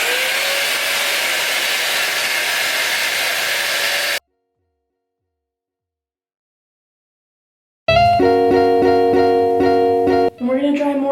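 A $45 AliExpress dupe of the Dyson Airwrap is used as a hot air round brush to dry hair, giving a steady loud blowing whir that stops, then restarts with a tonal motor whine and a brief dip near the end.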